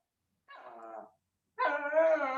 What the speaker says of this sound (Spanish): Solo escucho una perrita ladrando.